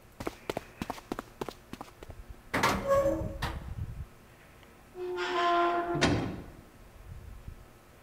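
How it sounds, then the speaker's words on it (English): A door is pushed open in Zero Escape 999, a heavy creaking scrape with a thud after a quick run of footsteps, followed by a second drawn-out groan and a solid knock, fairly faint overall. "Junpei pushed through the door and found himself in a large room with a large set of stairs."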